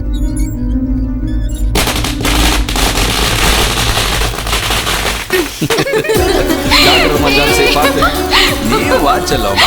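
Rapid crackling bursts pop loudly and continuously, close by, with voices shouting over the din in the second half.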